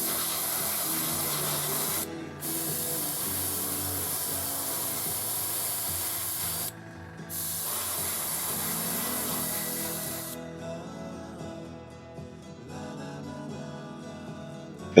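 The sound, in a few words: spraying black acrylic primer onto model tank parts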